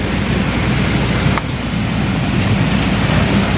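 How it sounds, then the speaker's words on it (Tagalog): Heavy rain pours down in a dense, unbroken roar of broadband hiss, loud and close, with a brief dip partway through and no voices. "lakas ng ulan."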